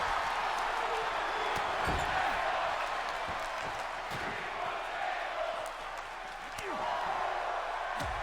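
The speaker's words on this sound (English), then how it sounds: "The whole crowd's yelling, we want tables." A virtual arena crowd in the WWE 2K24 wrestling video game roars and chants for tables, a broad sustained crowd noise with a few sharp thuds and slams mixed in.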